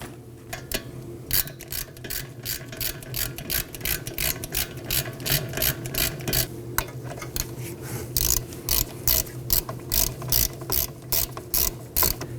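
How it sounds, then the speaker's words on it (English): Ratchet on the rear brake caliper bolts of a 2018-2024 Toyota Camry, clicking in a steady run of short back-and-forth strokes, close and crisp, with no talking. "Let's go ahead and snug those down."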